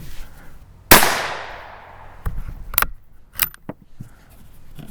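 .17HMR rifle firing Hornady rounds from a cold barrel: one loud, sharp crack with a long decaying ring outdoors, followed by a few fainter clicks and clatters of handling the action.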